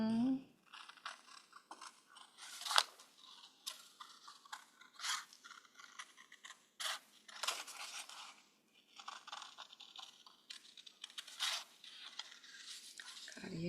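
Scissors cut around a paper roll to shape a tulip, making a quick series of crisp snips and rustling crunches at close range, quiet between cuts.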